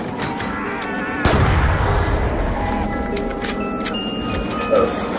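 Type 25 assault rifle in Black Ops 2 Zombies: a loud burst of video-game gunfire begins about a second in and carries on as dense, rapid shots, with scattered game effects behind it.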